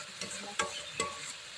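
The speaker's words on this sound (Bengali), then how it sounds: "একটু নেড়ে চেড়ে মশলাটা একটু কষানো হবে" Spice paste with green chillies fries in a pan for aloo dum, a steady sizzle broken by a few scraping stirs of a spoon, close and moderately loud.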